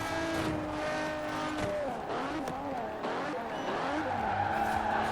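A Bugatti Divo in Forza Horizon 4 races into a corner, engine pitch rising and falling as tires squeal through the turn, with a voice speaking over it.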